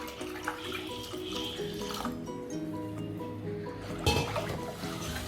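Water pours and splashes continuously into ground rice batter for vadagam crisps, with a stronger gush near the end.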